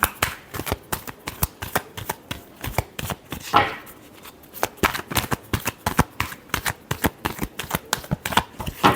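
Tarot cards shuffled by hand in rapid, rhythmic riffles, close and crisp, continuing steadily with a brief pause partway through.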